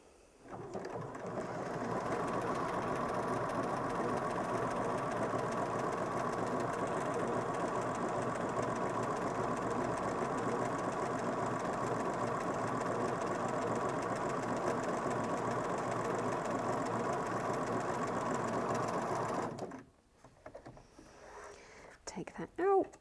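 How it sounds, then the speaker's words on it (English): A Bernina S-325 sewing machine runs steadily for about eighteen seconds, stitching a seam through fabric with a continuous mid-pitched whir and rapid needle rhythm, then stops, leaving quiet handling noises. "So I'm just going to pop my fabric underneath the foot and sew my seam."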